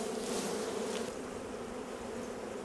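Honey bees buzz steadily from an opened hive during a beekeeping inspection, a dense, continuous close-up drone with no talking.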